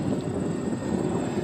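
An RC model airplane with a KK2.0 stabilising flight controller drones steadily overhead, its small engine a constant buzzing whine at moderate distance with no voices.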